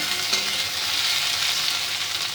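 Potatoes frying in a pan give a steady, close hiss of oil that holds at an even level throughout, with no voices.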